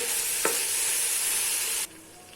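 Tomato pieces cooking in a frying pan for chicken fry piece biryani, a steady loud sizzle with one short stir scrape, then cutting abruptly to a much quieter hiss.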